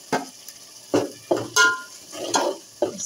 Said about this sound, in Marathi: परतून घ्यायचं तेलावर आणि तेल सुट्यापर्यंत ते का शिजाक द्यायचा